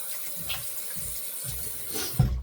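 A tap runs into a sink while a face is rinsed after a shave, giving a close, steady hiss of water with soft splashing pulses and a louder splash at the end.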